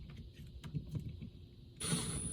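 A Milwaukee M12 1/4-inch hex drive impact driver bursts into action near the end, driving a screw into raw wood with a sudden loud, buzzing whir after a stretch of quiet low rumble.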